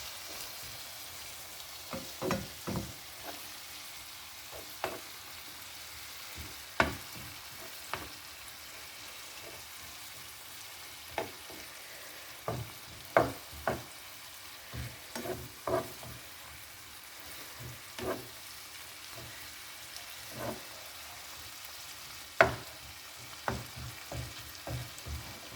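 Spinach, shrimp and butter fry together in a pan for shrimp and grits, a soft continuous sizzle broken by irregular pops and utensil taps, close but moderate in level, with no talk.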